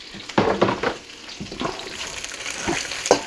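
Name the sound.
celery added to a pan, frying and sizzling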